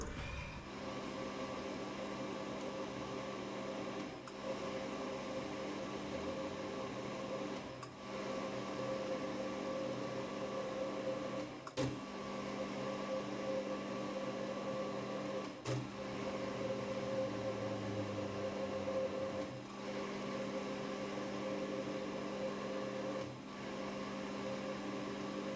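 A metal lathe cuts a 12 by 1.75 thread, a steady motor hum with whining tones running continuously, broken by faint periodic clicks every few seconds as the carriage passes.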